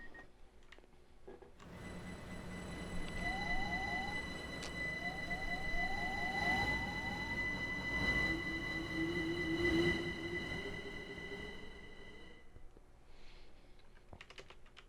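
A Minecraft train departs a station on a line to Plainstown, rising from near silence into a sustained rolling rumble with clicking wheel noise and steady tonal whines and squeals, then fading away, alone with no talking.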